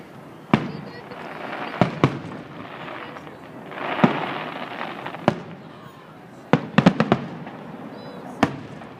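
A fireworks show in Mentor, Ohio bursts overhead with sharp booming reports, scattered singly and then in a quick cluster, over a rumbling crowd ambience with people chatting nearby.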